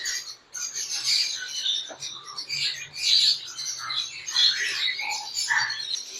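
A violet fallow budgie breeder pair chirps in rapid, scattered bursts of high tweets and chatter, close and fairly loud, with a faint low murmur underneath.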